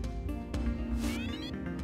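A cat in the video game Deus Ex meows several times in short, near, clear calls, one rising into a drawn-out whining meow, over a faint musical backdrop.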